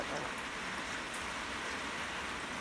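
Light evening rain falls in Baku around a pigeon loft, a steady, even hiss of drops that fills the whole stretch without a break.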